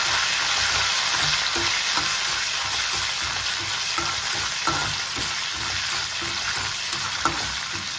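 Tempering seeds and curry leaves frying in hot oil for a cluster beans fry give a continuous crackling sizzle, close and steady, with faint stirring clicks scattered through.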